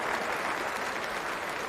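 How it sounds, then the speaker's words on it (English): Crowd at a famous cricket ground giving Steve Smith a standing ovation as he walks off after scoring 215; dense, steady applause fills the whole stretch at an even level. "Everyone at this famous ground standing to applaud Stephen Smith off the ground for 215."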